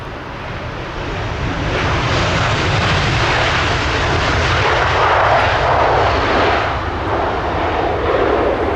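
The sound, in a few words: Airbus A340 private jet landing at London Stansted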